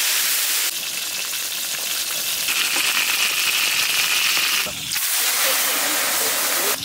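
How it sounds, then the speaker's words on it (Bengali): Pointed gourd fries in mustard oil in a wok with a loud, steady hiss and sizzle. The sound drops briefly about two-thirds through, then resumes just as strongly. "পটল ভেজে নেব।"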